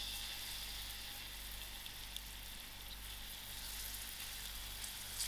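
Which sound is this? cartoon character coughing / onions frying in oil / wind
onions frying in oil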